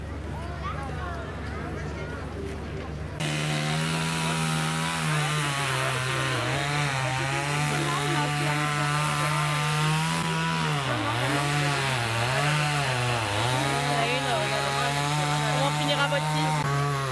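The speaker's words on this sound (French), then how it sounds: "C'est surtout avec la tronçonneuse." Chainsaw running at a 2020 rural festival in Compiègne, starting abruptly after quiet crowd murmur and then holding a loud, steady engine drone whose pitch dips briefly several times as it works.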